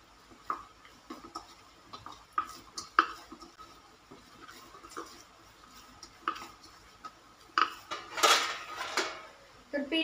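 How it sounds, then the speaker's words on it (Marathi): Momo dough for street-style veg momos being kneaded and mixed in a metal vessel with a spoonful of oil, giving scattered clinks, scrapes and knocks of dish and utensil at close range, with a louder clatter near the end. "पीठ असं छान मळून घ्यायचं आहे"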